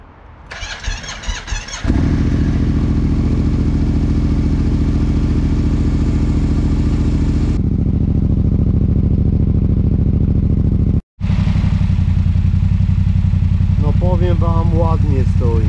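A Yamaha MT-07 motorcycle cranks briefly, fires up with a loud, steady idle close by, drops out for a moment, then resumes its even running rumble.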